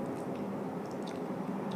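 Close, wet chewing of candy, with soft squishy mouth sounds and a few faint clicks repeating steadily over the short stretch.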